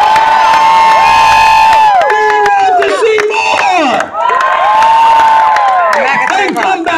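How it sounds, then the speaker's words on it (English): Loud crowd at a fair jousting show cheering and shouting, with a sustained high whistle or shrill horn-like tone sweeping through, strong and continuous with a brief dip before rising again. "A nice round of applause for both these champions!"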